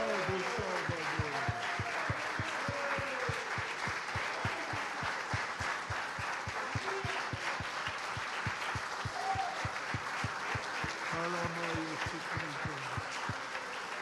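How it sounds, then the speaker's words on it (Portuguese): Church congregation applauding steadily together for the whole stretch, a dense, even wash of clapping with a faint sung or spoken tone drifting underneath. "Aplauda o Salvador."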